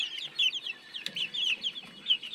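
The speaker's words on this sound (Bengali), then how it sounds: "এই যে বাচ্চাটা দেখা যাচ্ছে এটা হচ্ছে টাইগার মুরগির বাচ্চা" Day-old tiger chicken chicks peeping close by, a rapid series of high, thin chirps in irregular bursts, with no voices.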